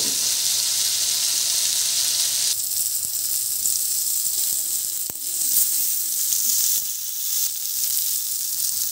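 Pointed gourd pieces frying in oil in a pan, a loud continuous sizzle that drops and swells as they are turned, with a few faint clicks of utensils.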